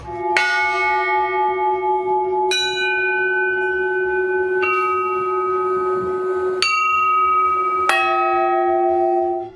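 Bells in a three-bell church bell tower ring out loud and close, with five clear metallic strikes at irregular intervals, each tone ringing on and overlapping the next, no voices heard.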